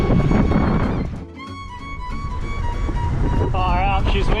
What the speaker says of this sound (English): Far out, she's windy.